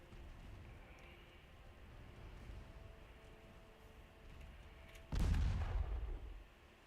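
Naval guns in the Ultimate Admiral Dreadnoughts warship game fire armor-piercing shells in one loud, close, booming salvo that rolls off over about a second, rising above a steady rumbling battle ambience.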